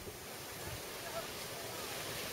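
Large ocean surf breaking at Brennecke Beach on Kauai, a steady broadband wash of waves with wind noise, continuous and fairly faint throughout.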